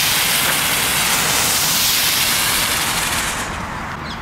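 A tiny German ground bloom firework hisses loudly and steadily at close range, a dense spraying fizz that holds for several seconds before tapering off near the end, with no voices.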